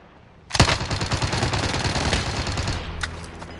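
Sustained automatic gunfire from a PS4 shooter game, a dense continuous burst of rapid shots starting abruptly and rattling on steadily at close, loud level, with a couple of sharper cracks near the end.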